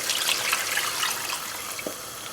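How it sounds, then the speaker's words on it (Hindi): Water poured steadily into a cooking pot of lamb and cauliflower curry, a continuous bright splashing trickle, close and fairly soft, with a small clunk near the end. "यहाँ पर मैं ऐड करने लगी हूँ अब पानी।"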